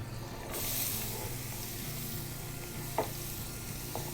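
Diced onion and garlic sauté in hot oil with a steady, close sizzle, broken by a few soft clicks as they are stirred.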